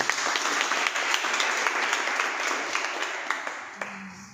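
Seminar audience applauding in a hall, a dense steady patter of many hands clapping for several seconds, fairly loud and fading slightly toward the end.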